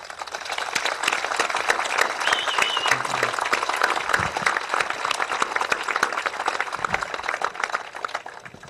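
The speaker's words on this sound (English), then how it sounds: "I'd like to give everyone that has helped this possible, give them a round of applause, please." An audience gives a sustained round of applause, dense and even clapping with a few sharper individual claps standing out, continuing for about eight seconds.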